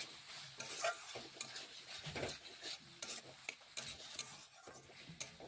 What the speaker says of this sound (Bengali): টমেটোগুলো একটু নাড়িয়ে ভেজে নিচ্ছি